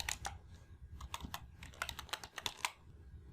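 Someone types a short entry on a computer keyboard while working in an Excel spreadsheet, with quick, irregular key clicks close by at low volume.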